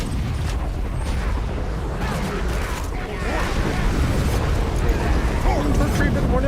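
Magic missile blasts go off in a Borderlands game running a Torgue mod, a rumbling, crackling wall of explosions that swells louder in the second half. Voices murmur beneath the din.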